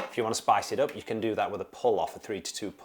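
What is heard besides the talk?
No distinct noise like a dog, phone or traffic.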